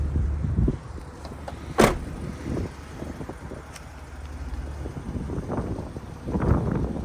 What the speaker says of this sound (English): Car's driving well.